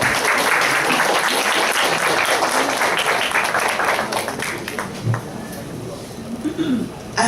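Audience applause at a graduation party, dense sustained clapping from a crowd indoors that thins out and fades toward the end.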